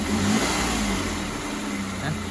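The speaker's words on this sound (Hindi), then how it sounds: "अब आप इंजन की नॉइज़ सुनो।" A 2020 Renault Kwid car engine runs steadily with a low, even hum and slight swells in pitch, close by and fairly loud, with no voices.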